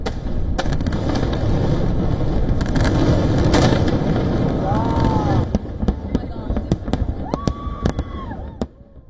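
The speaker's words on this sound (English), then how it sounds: "fireworks lighting up the night sky" Fireworks at an Independence Day celebration pop and crackle in a dense, continuous barrage, followed by scattered sharp bangs and whistling streaks as the display thins out, with people talking underneath.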